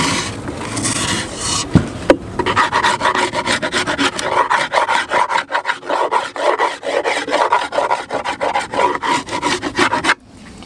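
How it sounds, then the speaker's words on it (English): A tool scrapes propolis from the inside walls of a wooden bee hive with steady, rhythmic rasping strokes, close and loud, repeating rapidly for several seconds after a brief knock. "the next part is to just work our way all the way around inside, scraping all four sides"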